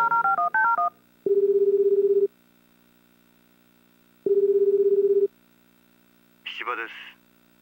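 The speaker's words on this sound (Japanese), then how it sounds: "芝君に電話しよう。" Telephone keypad tones from the video game Tokimeki Memorial Girl's Side 2nd Kiss: a quick burst of several dialing beeps, then two long steady ringback tones separated by silence, followed by a brief voice at the end.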